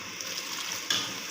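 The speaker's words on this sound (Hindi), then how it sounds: "थोड़ा सा पानी लगाएंगे" Water splashed into a pan of frying masala with red chilli, coriander and cumin powder for a restaurant-style kofta curry, giving a steady hiss that jumps into a brief, louder sizzle near the end.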